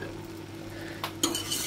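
Béchamel sauce being stirred in a pot, a soft steady scraping with a few brief utensil knocks and a sharper clink near the end, close and alone without talk.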